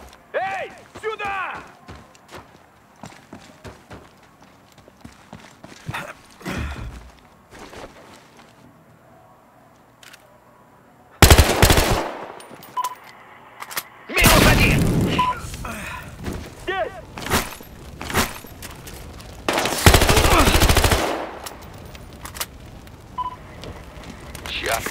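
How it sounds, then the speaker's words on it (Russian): Gunfire in the video game Battlefield Hardline comes as several loud, sharp broadband bursts and short volleys scattered between quieter stretches, with voices speaking at times in between. "вот это стрельба"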